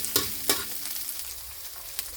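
Garlic sizzles steadily in a hot pan, with two sharp scrapes of stirring near the start and softer stirring afterward.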